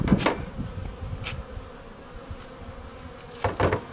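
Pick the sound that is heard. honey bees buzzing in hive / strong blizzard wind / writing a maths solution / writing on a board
honey bees buzzing in hive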